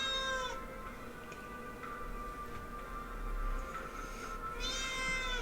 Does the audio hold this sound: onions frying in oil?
no